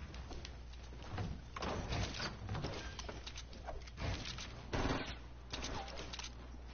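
Rapid gunshot volleys crackle in repeated bursts with short gaps between them, fairly close and sharp over a steady low hum.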